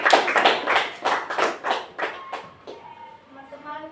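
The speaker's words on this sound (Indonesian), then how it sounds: "Beri tepuk Kanja" Classmates clap for a student named Kanja in an Indonesian classroom, a ragged burst of hand claps that is loud at first, then thins and fades over a few seconds.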